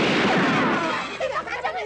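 A loud gunshot from a 1981 Indonesian cowboy film booms close, a single heavy blast that rings and decays over about two seconds.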